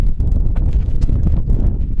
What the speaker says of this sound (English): Gosh, it's windy out here.